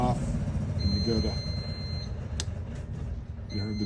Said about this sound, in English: you heard the beep.